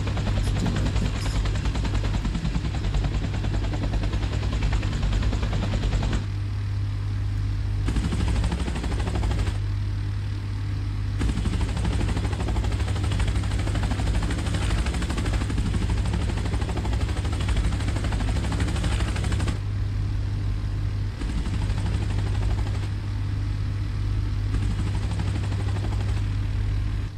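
Helicopter in Space Engineers with its tail rotor spinning, a steady loud drone with a strong low hum that runs unbroken throughout, with no talk over it.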